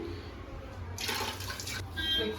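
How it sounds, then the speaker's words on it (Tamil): Water splashes and pours into a metal idli cooker for about a second, with faint background hiss before and after. "இந்த மாதிரி ஒரு இட்லி குக்கரில் வந்து நாங்கள் தண்ணி ஊற்றிட்டு"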